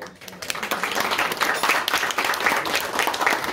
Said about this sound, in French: je souhaiterais qu'on applaudisse et qu'on remercie la Madeleine de Marseille pour son accueil